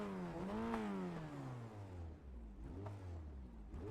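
A Formula Ford 1600 race car engine in the iRacing sim revs with rising and falling harmonic sweeps, a close, continuous buzzy drone that dips and climbs through gear changes, with no voices over it.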